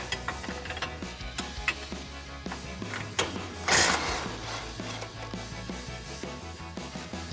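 Wrench and socket loosening strut mounting nuts on a Ford F-150 during a leveling kit install, heard as a run of quick ratcheting clicks and metallic ticks, with a louder burst of scraping near the middle and no talking.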